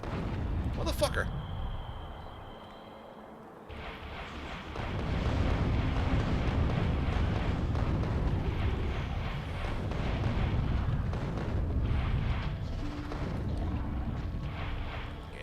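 Rockets firing and exploding in the game Space Exploration, a sharp launch followed by a long rumbling roar of blasts. Several voices talk over the rumble.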